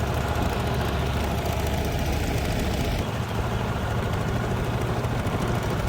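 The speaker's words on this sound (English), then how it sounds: "We're on the boat, heading down the river here." A boat engine on a river in Siem Reap, Cambodia: a constant low drone rumbles throughout, with steady vibration and a faint wash of water noise.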